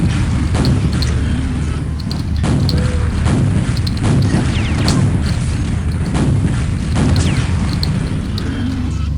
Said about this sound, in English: This is a rocket launcher.